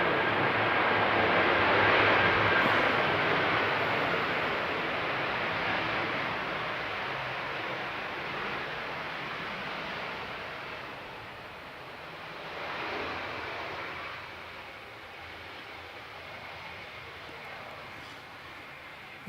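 An airplane landing on runway 29 in strong winds at Canterbury, with broad, steady jet roar rising and fading over gusty wind noise, loud throughout and swelling again midway.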